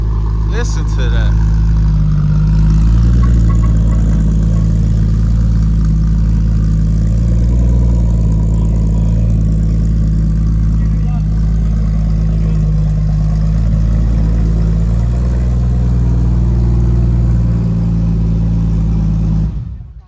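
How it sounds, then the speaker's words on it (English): A loud, steady RWB Porsche engine idles with a deep low rumble and slight swells of revving, running continuously for about twenty seconds before cutting off at the end. "What a beautiful sounding motor."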